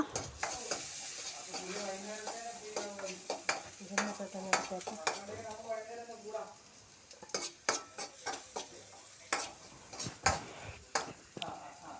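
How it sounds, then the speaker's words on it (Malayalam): Chopped vegetables stir-fried in oil in a pan for homemade noodles, a steady sizzle broken by repeated sharp scrapes and clinks of a spatula, with some voiced talk or tones in the middle. "നമ്മൾ അരിഞ്ഞ് വെച്ച ആ വെജിറ്റബിൾസ് ഇടുക. ഇളക്കി കൊടുക്കുക."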